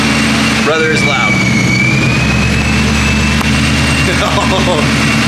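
A loud modified Mustang engine, likely an ESS G3 supercharged setup, runs with a steady heavy low rumble and a high whine throughout, with a brief revving swell early on and voices faintly underneath.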